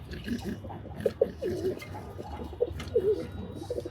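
Domestic pigeons coo softly in their loft, several low throaty rolling calls coming in short bursts at close range over faint indoor background noise.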